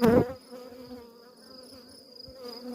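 A dense swarm of honey bees at a hive, a continuous close-up buzzing drone that opens with a short loud knock and then holds steady.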